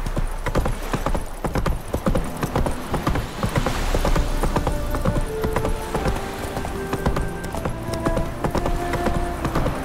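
Hoofbeats of the horse Roach galloping in the video game The Witcher 3, a steady rapid clip-clop running throughout with layered game sounds and faint musical tones behind, no talking.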